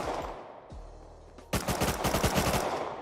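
Gunfire in the survival game Rust: a couple of isolated shots, then a rapid, loud burst of repeated automatic fire that runs to the end.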